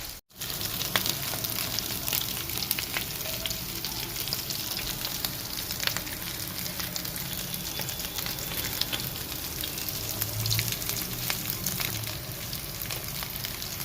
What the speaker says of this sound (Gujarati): આવી રીતે પેટીસને શેકવાની.